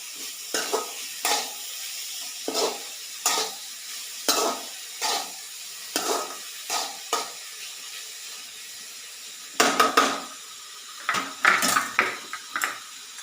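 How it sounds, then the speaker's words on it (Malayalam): A spoon stirs spinach thoran in a pan, making a repeated series of short scraping clinks against the metal over a faint sizzle, with a few quicker, louder scrapes near the end. "ഇനി ഒന്ന് ഇളക്കി കൊടുക്കാം. അപ്പം എല്ലാം ഒന്ന് മിക്സായി കിട്ടാൻ വേണ്ടി"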